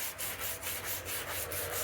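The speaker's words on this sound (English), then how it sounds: "This is sanding up beautifully." Sandpaper works a Purple Heartwood handle on a hand-forged left-handed grafting seax, a soft rhythmic rasp of back-and-forth strokes, about seven even passes, heard close and quiet.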